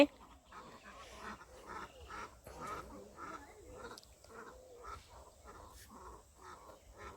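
Ducks swimming in cold water on a winter morning call again and again, a faint, evenly spaced series of quacking calls in a quiet outdoor setting.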